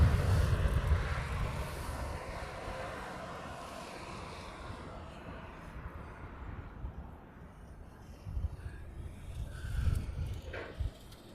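Jetstar airliner taxiing along an airport taxiway in Hawaii, a steady distant engine rumble and whine with some wind buffeting, loudest at the start and easing off, with no talking.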